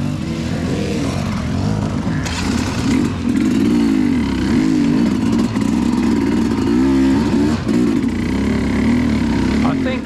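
An enduro motorcycle climbs a long hard hill, its engine revving and bogging in uneven bursts as the rider keeps a steady pace, loud and close throughout.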